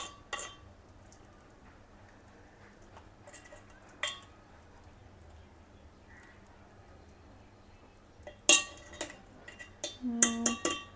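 A metal lid set on a pot of gulab jamun soaking in sugar syrup: a few faint taps, then a bright clattering clink and ringing metallic rattles as it settles, quiet and close.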